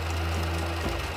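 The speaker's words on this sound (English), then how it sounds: "The only new element, the solar-powered sewing machine," A solar-powered sewing machine in an Amish home runs with a steady, close mechanical whir and rapid knocking hum that shifts slightly near the end of a short burst.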